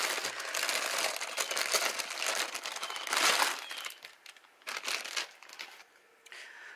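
Plastic packaging of a Suicune Pokémon plush being opened, close crinkling and crumpling in irregular bursts, louder at first, then quieter and more sporadic.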